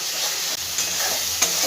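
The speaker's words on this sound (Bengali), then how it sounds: "দেখো মশলাটা আমার খুব ভালো করে ভাজা হয়ে গেছে, মশলা থেকে তেলটাও ছেড়ে দিয়েছে।" Spice paste for chana dal frying in hot oil, a steady close sizzle with soft scraping of a spoon stirring through it, continuous and fairly loud with no voices.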